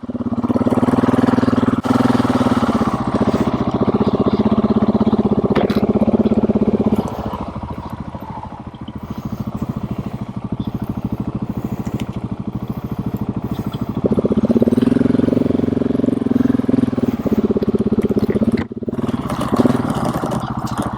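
A Husqvarna 701 LR motorcycle is ridden along the Northeast Backcountry Discovery Route, its engine droning loudly and steadily throughout, with a dip in intensity midway before rising again.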